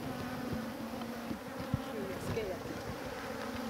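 Bees buzz loudly and continuously as they are shaken from a catcher box into a top bar hive, a dense close hum with a few individual bees whining past.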